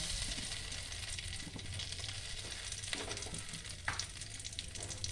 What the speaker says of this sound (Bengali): কড়াইয়ের তেল গরম হয়ে গেছে। আমি এবার অল্প করে কালো জিরে দিয়ে দিলাম